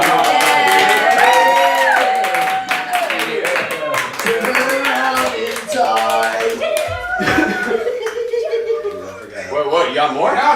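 Hand clapping among a small group at a Halloween special, scattered sharp claps mixed with lively voices, laughter and chatter throughout.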